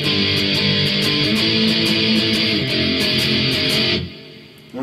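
Electric guitar playing the verse chords of a song, a steady run of rhythmic strums with sharp pick attacks for about four seconds, then stopping abruptly, leaving a brief quiet tail.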